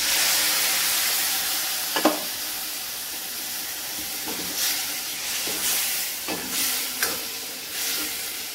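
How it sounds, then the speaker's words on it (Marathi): Water poured into a hot spiced oil tempering for a sprouted moth bean curry erupts in a loud, continuous close sizzle and hiss, with occasional bursts of spitting and stirring clinks. "याच्यात आपण आता थोडंसं हे मसाले एकत्र होण्यासाठी थोडं पाणी टाकून घेणार आहोत।"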